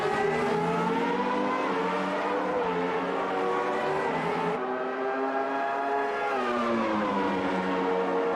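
Formula One cars race in the video game Automobilista 2 at Interlagos, with a dense, high-pitched engine whine holding steady and rising and falling in pitch as the cars accelerate and shift, loud and continuous throughout.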